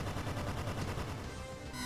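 A rapid, rumbling burst of explosions in the video game Emerald Dragon rattles in a dense crackling run, loud and continuous throughout before cutting off abruptly at the end.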